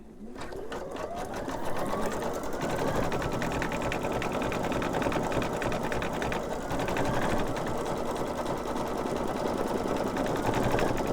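An embroidery machine runs a satin stitch, its needle clattering in a fast, even rhythm after a brief spin-up, close and continuous throughout.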